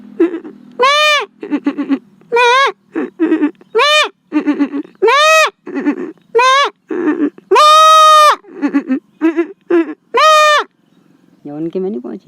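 A man imitates the bleat of a baby goat with his voice, giving a series of loud, close, wavering bleats in bursts, broken by short pauses and a final lower call.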